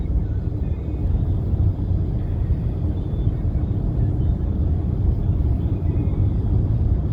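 A long freight train on the Herington line, a distributed-power locomotive numbered 7942 among its engines, gives a steady, loud low rumble that holds constant throughout without pause.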